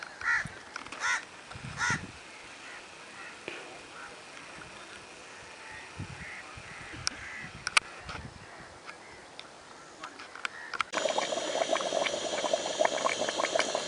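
Meat curry simmering in a pot as its water cooks off, a soft bubbling hiss under outdoor ambience with crows cawing nearby, the sizzle growing louder and brighter near the end.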